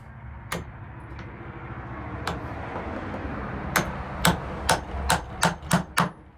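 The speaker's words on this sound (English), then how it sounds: "Take a nail, spiral nail." A hammer strikes a spiral nail into a wooden board: a few scattered knocks, then a quick, steady run of about seven sharp, loud blows.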